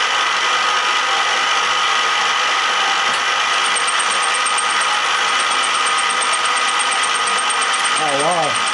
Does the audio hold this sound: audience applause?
no